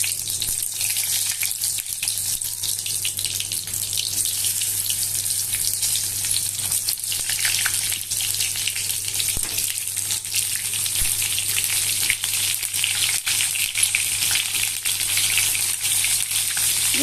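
Stuffed eggplants sizzling in hot oil in a pan, a steady, close, hissing crackle that runs unbroken throughout over a faint constant hum, with no voices.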